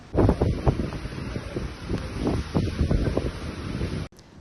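Strong storm wind gusts buffeting a microphone outdoors in Dnipro, a loud continuous roar with surging rushes and rumbling low-end buffeting that cuts off abruptly near the end.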